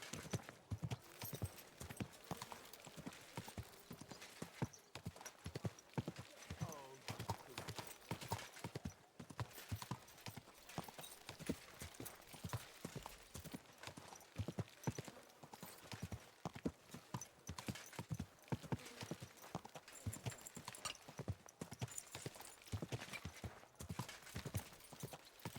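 Steady clip-clop of horse hooves plodding at a walking pace in the video game Kingdom Come: Deliverance II, close and continuous, with a faint background of outdoor ambience.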